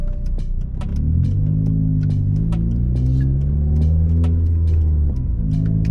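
Muffled, steady engine hum and tire rumble inside a Hyundai Tiburon with the sunroof closed, with a low droning tone that shifts slightly as it accelerates.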